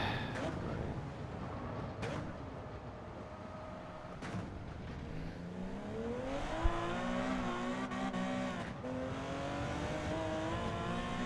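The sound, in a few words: Porsche 917K '70 race car driving in video game Gran Turismo 7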